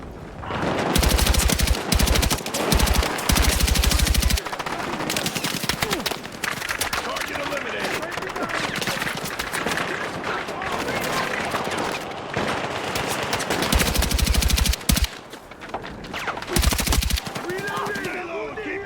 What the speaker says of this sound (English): Lay down covering fire.